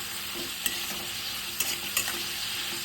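Pointed gourd frying in a pan with salt and turmeric gives a steady, close sizzle, broken by a few quick scraping stirs.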